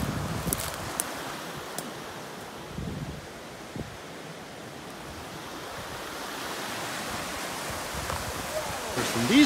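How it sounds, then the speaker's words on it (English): Steady rushing water roars throughout, a broad hiss like a waterfall, with a few brief clicks and faint voices mixed in. "These waterfalls"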